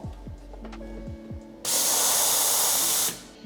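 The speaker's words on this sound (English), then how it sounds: "just make sure to clean and purge that steam wand" Eversys Cameo espresso machine steam wand purging: a loud, steady burst of hissing steam cuts in after a few low mechanical hums and tones, holds for about a second and a half, then stops abruptly.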